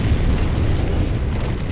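A boss unleashes an explosion attack in Dark Souls Remastered, in the Demon Ruins: a loud, sustained roaring blast of dense rumble lasting almost two seconds, with no voices.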